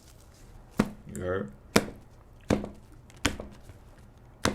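A tarot deck being shuffled and cut by hand, five sharp card slaps spaced about a second apart, close and distinct, with a brief spoken question between the first two.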